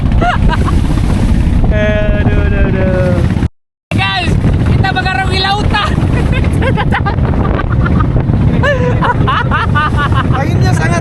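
Boat crossing open sea in strong wind and rough waves, constant loud wind buffeting and engine roar with several people talking and shouting throughout, cut by a brief dropout.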